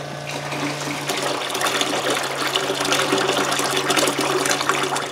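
Steady rushing gush of water pouring into a barrel inside a cabin, loud and continuous, with a low mechanical hum underneath.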